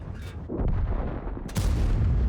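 Tank cannon fire from a Leopard 1 in World of Tanks: two heavy booming shots, about a second apart, each with a sharp crack and a long rumbling tail over steady low engine noise.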